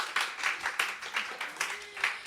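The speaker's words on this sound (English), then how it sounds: "maybe clap if you've done the Bike and Seek so far" A few people in a small theatre audience clap in a sparse, uneven pattern of separate hand claps, fairly quiet, with a faint voice beneath them.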